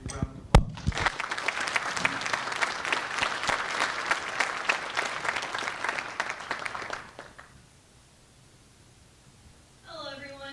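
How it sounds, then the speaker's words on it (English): An audience at a space-science technology presentation claps in a loud, steady round of applause lasting several seconds before it fades to near silence, and a voice then begins speaking. "Big round of applause."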